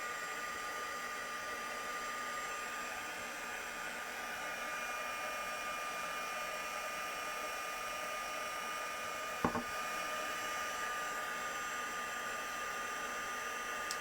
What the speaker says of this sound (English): I'm going to heat it with my heat tool and that will dry really,